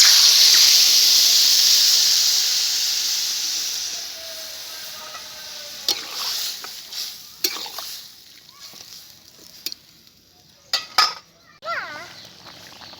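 Water poured onto fried eggplant and radish in a pan sets off a loud hiss that slowly dies down, followed by scattered clinks and scrapes of a utensil as the curry begins to simmer.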